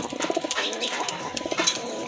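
Pigeons cooing at a pigeon sale, several close, throaty coos repeating in quick overlapping bursts, fairly loud over faint background chatter.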